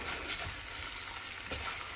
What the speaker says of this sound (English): we're going to go back to frying